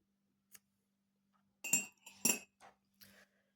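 A metal spoon stirs inside a cup, giving a few bright, close clinks spaced irregularly, a couple of them louder and ringing, in an otherwise quiet room with a faint low hum.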